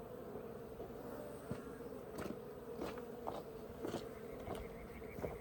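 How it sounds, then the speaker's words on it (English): A dense swarm of Africanized bees held in a container, removed from under a shed floor in southern Arizona, drones in a steady buzzing hum, close and continuous, with faint scattered taps and rustles. "My goodness, that's a lot of bees."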